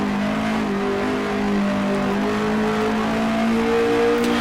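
Race car engine holding a steady, loud drone as it downshifts to third gear on track, with the engine note shifting in pitch during the change and no voices.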